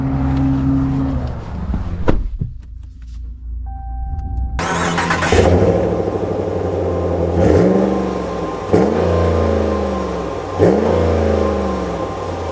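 Pickup trucks, a 2024 Ford F-150, Ram 1500 and Chevy Silverado, with an engine starting and then revving several times in loud repeated surges, heavy low rumble throughout.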